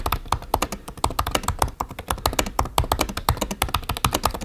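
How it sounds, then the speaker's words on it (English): Rapid, steady keystrokes rattle loudly and close up on a 2017 MacBook Pro keyboard, each press landing with a harsh, clicky snap, with no voice present. "The keyboard is super loud."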